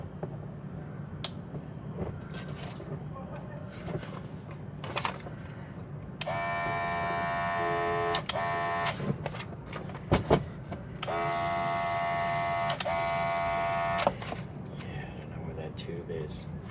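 A SHANGSE cordless rechargeable airbrush with a disposable nozzle sputters in uneven bursts, loud buzzing motor spells of several seconds alternating with quieter gaps and clicks, close by.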